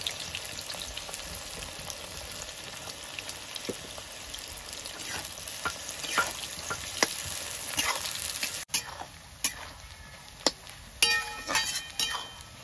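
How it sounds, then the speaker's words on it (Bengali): Onions frying into beresta in hot oil for chicken biryani, with a continuous close sizzle broken by repeated sharp clinks and scrapes of a utensil against the pan, growing sparser and more percussive toward the end. "তেল গরম হয়ে গেছে, বেরেস্তাটা বানিয়ে নিই।"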